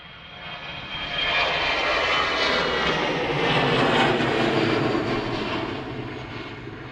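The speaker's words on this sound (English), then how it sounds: "I do love the whine of those A320 engines." Airbus A320 jet engines whine at Manchester Airport, a loud steady roar with a high whistling edge. It swells and holds for several seconds as the aircraft passes nearby, with no talk over it.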